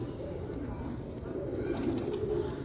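A breeder pigeon coos in a low, soft, rolling murmur that swells slightly toward the end, steady and close throughout.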